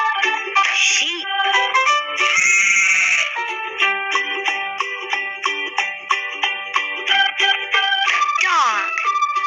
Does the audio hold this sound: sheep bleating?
yes